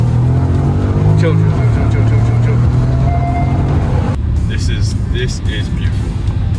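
Porsche Panamera 4S engine cruising in sport mode, a steady low drone from inside the car, with a person talking over it throughout.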